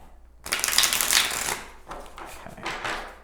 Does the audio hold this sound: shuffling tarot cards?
yes